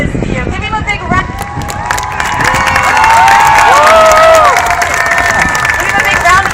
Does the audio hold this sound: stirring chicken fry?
no